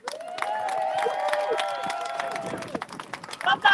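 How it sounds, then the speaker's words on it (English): An audience claps and cheers at the finish of an Atlantic rowing race, a steady patter of close applause under a tonal whistle-like sound, with crowd noise rising at the end. "give yourself a big applause as well"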